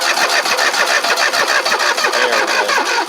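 An engine cranks over and over on power from a Lokithor J400 jump starter, a fast steady whirring starter rhythm close and loud throughout, beginning to sound a little weak.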